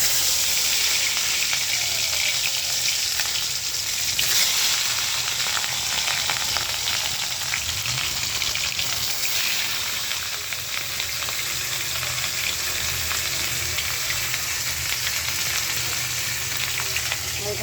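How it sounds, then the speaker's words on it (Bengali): Fish head sizzling in oil in a wok, a continuous dense crackle and hiss that keeps an even level throughout, with faint stirring noises underneath. "মাছ মাথা ভাজি করবো তো এই যে এখন মাছের মাথাটা দিয়ে দিলাম"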